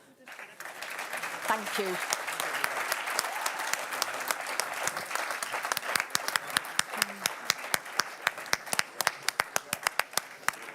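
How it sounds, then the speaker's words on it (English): An audience at a small-retail award ceremony applauds in a dense, sustained wave that thins into scattered individual claps toward the end, with a brief spoken thanks in between. "Please, just a small bit of clapping"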